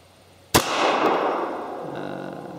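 A Beretta 84 Cheetah pistol fires a single Gold Dot 90 grain jacketed hollow point round, one sharp, loud crack followed by a long fading ring.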